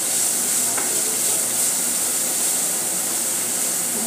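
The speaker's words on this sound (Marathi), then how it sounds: "चांगले परतून घेऊ।" Chopped onion, garlic and green chili frying in a pan, a steady close sizzle and hiss with faint occasional stirring, continuous and alone without talk.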